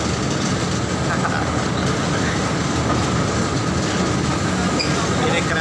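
A small narrow-gauge sugarcane freight train rumbles steadily along the rails with a continuous rattling clatter, close by, filling the whole stretch without pause.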